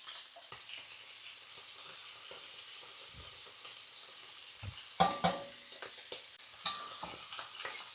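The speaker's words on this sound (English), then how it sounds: "Got the pancetta in the pan." Pancetta sizzles in a pan with a steady soft hiss, and a few sharp clinks and scrapes of stirring come through near the end, quiet and close.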